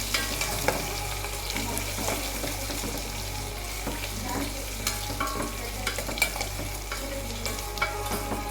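Chopped onion added to hot tempering oil for dal, frying with a steady close sizzle and crackle, punctuated by scraping stirs of a spoon in the pan throughout.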